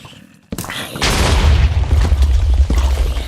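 A loud explosion goes off in a Minecraft modpack game, with a sharp onset followed by a deep, rumbling boom that sustains for a few seconds.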